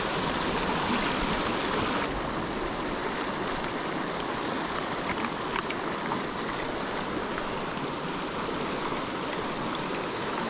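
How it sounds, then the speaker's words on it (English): A mountain stream rushes loudly and continuously at a backcountry water crossing in Colorado elk country, a steady close roar of flowing water with no voices. "We're down at the water crossing, but we got to find a crossing now."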